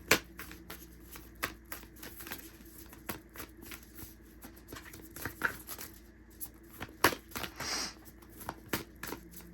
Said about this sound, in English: I'm going to get you guys an oracle card from the Moonology deck